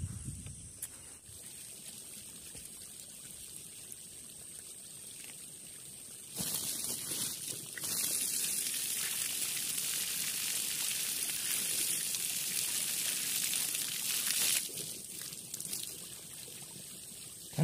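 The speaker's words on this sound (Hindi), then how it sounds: "ठंडा बहुत ज्यादा पानी है," Cold water pours steadily from a tubewell in Keoladeo National Park, Bharatpur, Rajasthan, a loud continuous rushing splash that swells in the middle of the clip over a faint outdoor background.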